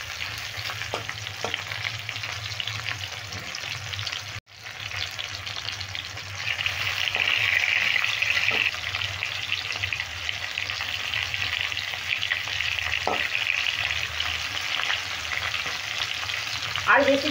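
Sliced pointed gourd (potol) fries in a covered pan with a steady close sizzle that swells louder midway, broken by a few soft clinks and stirring scrapes.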